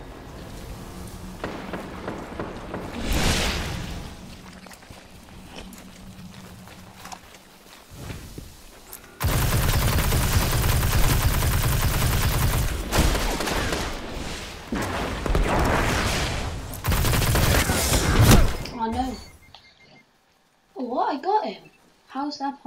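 Rapid weapon fire in the Destiny Iron Banner multiplayer mode, the Hard Light auto rifle, loud sustained bursts with game effects and announcer voice, ending in short bursts near the close.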